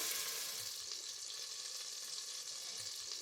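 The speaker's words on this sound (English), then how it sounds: "So I'm just going to add the leeks into the pan with the oil and butter." Leeks fry in a pan with oil and butter, giving a continuous soft, even sizzle that stays faint and steady with no talk.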